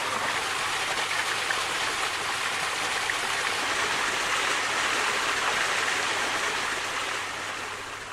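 Water rushes steadily through the wheel of a traditional gharat water mill, a dense, continuous roar like a stream or small waterfall, close and loud, easing off slightly near the end with no voices.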